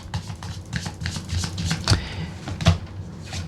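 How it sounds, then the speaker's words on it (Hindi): Tarot cards being shuffled and handled, giving a close, continuous shuffling rustle with a couple of sharper slaps as cards are laid down. No one speaks. "ओके, कुछ कार्ड्स और भी लेंगे हम।"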